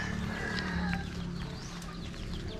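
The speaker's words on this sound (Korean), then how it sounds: "닭이다." A chicken clucks outdoors in the countryside, with soft, fairly distant calls over a steady background hum, and no talking.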